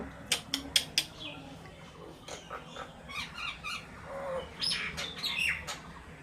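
Myna bird chattering close by in a varied series of chirps, squawks and whistled notes, loudest in a burst near the start and again toward the end.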